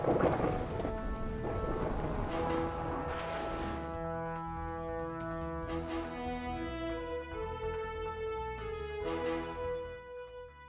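Heavy storm rain and thunder pound down as a storm sweeps across Luzon, a dense steady downpour with low rumbles, overlaid by sustained tonal sounds through most of the stretch.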